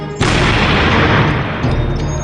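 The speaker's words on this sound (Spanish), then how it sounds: "Ha sido una explosión enorme." A small bamboo grenade packed with gunpowder detonates in one loud, close blast that cuts in sharply and leaves a long, roaring broadband decay with no voices.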